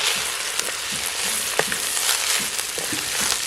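Steady, dense sizzling of spinach greens frying in a hot pan, with occasional small pops and crackles throughout, close up and continuous.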